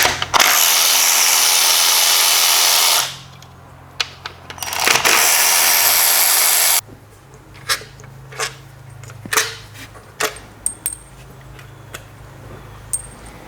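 A power tool removes the 10 millimeter bolts and nuts on a Nissan intake, with two long, loud whirring bursts, then light tool clicks and clatter close by.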